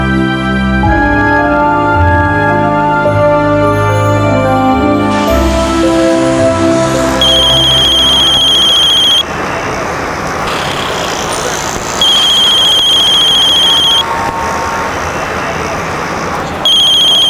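A phone rings with an incoming call, a loud electronic ringtone repeating in bursts over traffic noise, after an opening stretch of background music.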